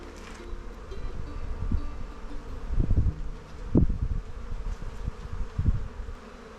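A wild honey bee swarm being moved out of a swarm trap keeps up a close, continuous buzz, broken by a few soft thumps and rustles as frames are handled.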